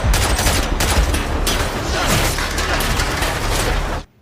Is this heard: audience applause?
no